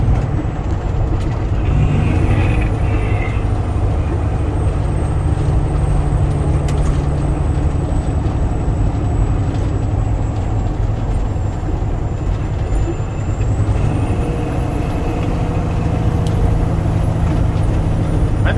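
A truck rolls in near a harvest field with a steady loud engine rumble, a hiss of air brakes, and a high whine shifting in pitch over the running motor.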